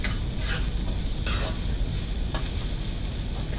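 Chopped onions and ginger sizzle steadily in a hot pan, a continuous crackling hiss with occasional brighter scrapes as they are stirred and browned.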